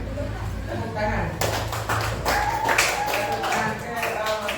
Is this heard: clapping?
yes